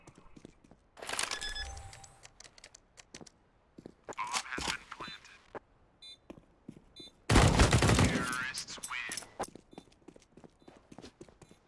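Gunfire bursts from a Counter-Strike match on the Mirage map, a professional esports round, with rapid volleys, isolated shots and clicky in-game sounds across the clip, one long loud burst near the end.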